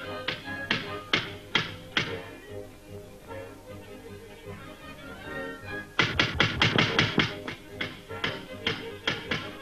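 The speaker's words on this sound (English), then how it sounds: "isn't there somebody knocking at the door?" Knocking at a door in a 1935 comedy film interior: repeated sharp knuckle raps in quick clusters of three to five, fairly close, the later bursts louder and denser, with no speech over them.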